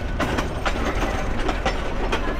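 A passenger train rolls and sways along the rails at a rural line near a small station, with a steady low rumble and repeated clickety-clack wheel beats heard from inside a coach.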